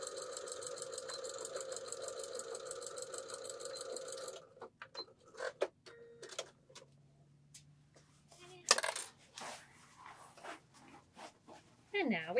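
A sewing machine runs fast and steady while top stitching a rice-filled fabric bag closed, a close rhythmic mechanical whir for the first few seconds, followed by quieter handling clicks and rustles with some speech.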